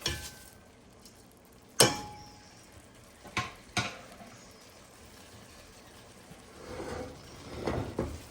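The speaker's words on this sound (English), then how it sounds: "Now we add the rice. I've rinsed the rice already." Rinsed basmati rice added to a pot, a few sharp clinks and knocks against the pot, then soft pouring and a gentle stirring rustle with a faint sizzle, close by.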